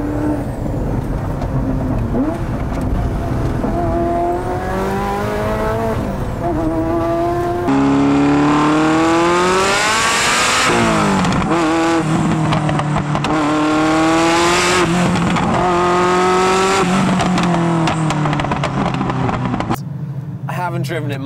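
A Ferrari F40 engine under driving, heard from inside the car: loud, near revving that climbs in pitch through repeated gear pulls, with brief drops between shifts and a sustained hard-accelerating howl.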